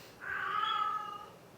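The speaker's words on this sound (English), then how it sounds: "That's my cat crying up a storm." A pet cat gives one drawn-out, wailing meow, fairly close and loud against a quiet room, rising and then trailing off over about a second.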